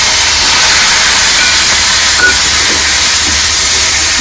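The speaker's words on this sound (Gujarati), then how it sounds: "તમે હળદર તેલમાં નાખો ને એટલે બહુ સરસ આમ વઘાર થાય" Hot oil sizzles loudly and continuously as turmeric and tomatoes go in with mustard and cumin seeds, a dense steady hiss with no pauses from start to finish.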